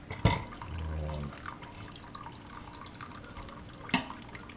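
Whey dripping from freshly made homemade Mexican white cheese, soft liquid trickles and drips heard close up, with a couple of sharper splashes and a low gurgle early on, no talk.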